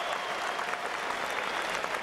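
Home crowd applauding Anna Meares' women's sprint win at the Melbourne track cycling World Cup, steady dense clapping filling the arena throughout, with no talk.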